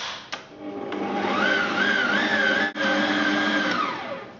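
An electric mixer whizzes Battenburg cake batter in a bowl, a loud, close, steady motor whine that holds for several seconds with one brief dip before winding down.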